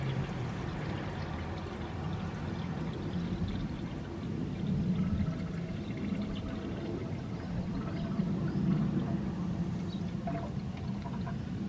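Antifreeze pours steadily out of a Ford Capri Cabaret during a timing belt repair, a continuous low gurgling trickle at close range that stays fairly even throughout, with no talking.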